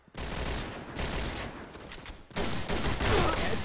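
Rapid automatic gunfire in the Point Blank shooter video game, dense bursts of shots that stop briefly and then resume louder, with no talking.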